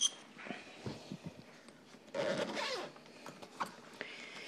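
A double zipper on a Vera Bradley 22-inch expandable upright suitcase is pulled open in a couple of short rasping bursts, with a longer steady zip in the middle, close by and fairly quiet.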